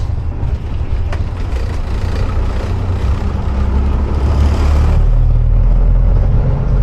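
A heavy truck's engine drones loud and steady as it drives and swings wide around a corner. The rumble rises toward the end, with no talking.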